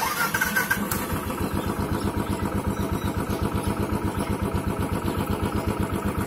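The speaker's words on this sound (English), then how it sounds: "I'm switching on the engine" A cold Royal Enfield Classic 500 motorcycle engine cranks and starts, then settles into a steady, close, loud thumping idle with an even rhythmic pulse and no voices.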